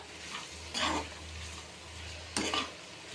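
Goat tripe curry with salt and chili powder stirred in a pan, two bursts of scraping spoon-on-pan stirring over a low steady hum, close and moderately loud.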